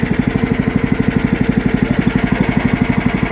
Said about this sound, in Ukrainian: Запустили, підсос закрили. Все, Він працює.